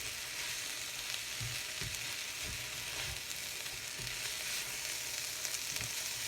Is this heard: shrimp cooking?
yes